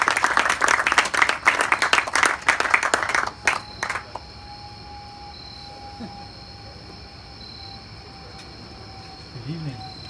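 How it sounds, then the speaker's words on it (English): A live audience at an evening talk event applauds for about three seconds, the dense clapping tapering off into a quiet room with a faint steady hum. "So just let's have a round of applause for Josh."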